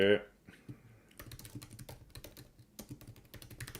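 Rapid clicking keystrokes on a computer keyboard while entering data into a Microsoft Excel spreadsheet, a close, steady patter of irregular taps after a brief louder sound at the start.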